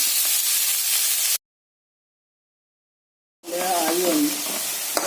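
Onions fried in a pan with salt and turmeric give a loud hiss and sizzle that cuts out abruptly into silence, then returns with a voice talking over the frying.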